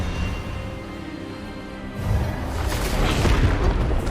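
Expelliarmus disarming spell cast in Hogwarts Legacy, a broad magical blast that swells from a steady rumble into a loud, booming burst in the second half, sustained to the end.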